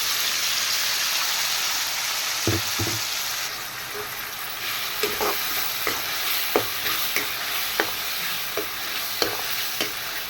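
Ground onion and tomato paste fries and is stirred in a pan for a chana dal kuzhambu, a continuous sizzle under repeated scraping taps of a spoon, close and fairly loud, with no voices.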